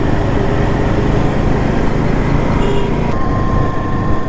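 A Royal Enfield Himalayan 450 motorcycle carries two riders down a road, with a steady, loud engine and wind roar going on continuously and no clear change in pace.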